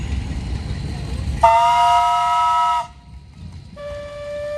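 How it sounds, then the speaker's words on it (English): A steam traction engine whistle sounds at a steam engine show in Halltown, Missouri: one loud, steady, multi-toned blast of about a second and a half, then a shorter, softer second toot over low outdoor rumble. "How about a whistle?"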